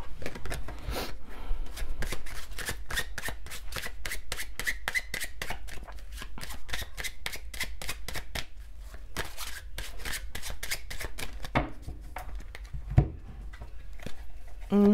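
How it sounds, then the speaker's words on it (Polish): Tarot cards being shuffled by hand in a long run of rapid, crisp riffling bursts, close and steady, with a brief louder knock near the end. "Teraz poproszę trochę czasu, bo będę tasować karty."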